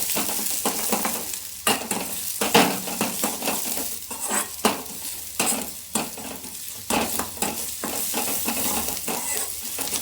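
Garlic sautéing in oil in a pan, a continuous close sizzle broken by repeated scraping and clinking strokes of a spoon stirring against the metal, with no voices.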